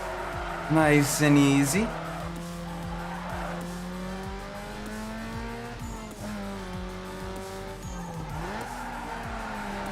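Tires skid and squeal as a street racing car slides through corners in Need for Speed Underground 2, a steady engine drone running underneath with a brief louder burst early on and a voice talking over it.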